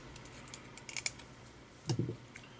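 Short snips of 0.5 ribbon wire being cut for a vape coil build on an authentic Goon RDA: faint, scattered clicks, then a louder crunchy cut near the end, close by and without talk.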